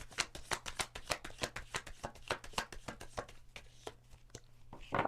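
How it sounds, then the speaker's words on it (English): Tarot deck being shuffled by hand in a steady run of crisp, rapid riffling snaps for about five seconds, close and clear with no talking, a low steady hum beneath. "These cards are so hard to shuffle right now."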